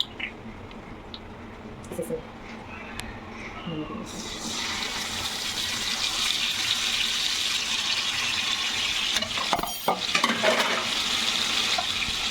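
Marinated chicken leg pieces fry in hot oil with a steady, broad sizzle that swells after a few seconds and holds, with occasional clatter and stirring noises close by.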